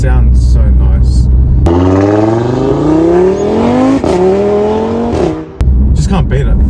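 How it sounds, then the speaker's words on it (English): An Audi RS3's five-cylinder engine revs hard, its throaty pitch climbing steadily for several seconds before dropping off, loud and close, with brief talk before and after. "the main reason people buy an RS3, right, is that 5-cylinder noise. It just sounds so nice."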